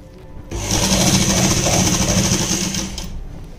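A sewing machine runs steadily through a palazzo seam for about two and a half seconds, a dense continuous whir that starts abruptly and then stops, close and loud.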